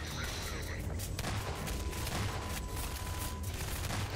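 Gunfire in the video game Half-Life 2, a dense burst of rapid shots and impacts at the start giving way to a steady rumbling background of continued firing, fairly loud with no talk.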